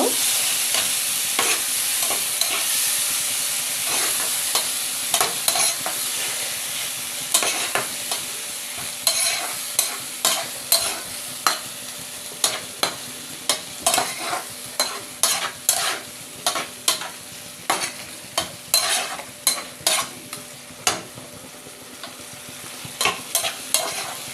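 Bengali masala paste with sour yogurt and fried eggs is sautéed in a pan, a continuous sizzle overlaid by a regular series of sharp spatula scrapes and knocks that grow more rhythmic and frequent over time, with no talking.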